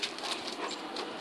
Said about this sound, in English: my dog, his name is Joshua